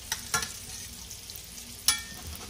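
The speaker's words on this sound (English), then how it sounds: "So I'm just keeping this moving so that they won't stick despite being cooked in actual butter." Ravioli frying in brown butter in a pan, with a soft steady sizzle under a few sharp scraping stirs of a utensil, heard close and fairly quiet without speech.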